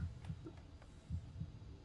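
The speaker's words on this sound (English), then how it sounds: "You could hear his heartbeat." A heartbeat sound effect in a Korean web drama, quiet, low thumping beats in a steady double rhythm over a soft hum.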